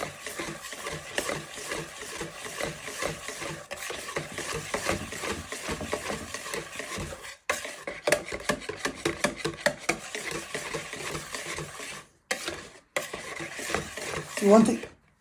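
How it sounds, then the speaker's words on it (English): Cake batter of flour and buttermilk being whisked for a white chocolate Victoria sponge, a steady run of quick scraping strokes against a bowl that pauses briefly now and then, close and alone. "you want to start whisking all that in"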